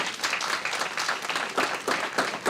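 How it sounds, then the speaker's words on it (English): An audience at a school board meeting applauds a group, with lively clapping from a modest crowd, close and fairly loud, that comes in uneven bursts. "But how about a round of applause for this group here?"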